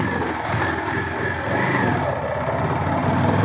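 A friend's motorcycle engine running at low throttle on a Bengaluru morning, a steady, close, loud rumbling drone with no clear revs or pauses.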